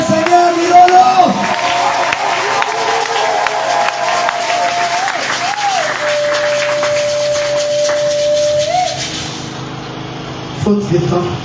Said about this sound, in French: Si tu vas comme ça, tu acclames le Seigneur